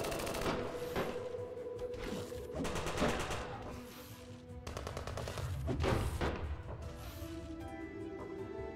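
Rapid gunfire bursts from a colony defending against attacking bears in the survival strategy game Surviving the Aftermath, with repeated volleys and impacts over a steady game soundtrack.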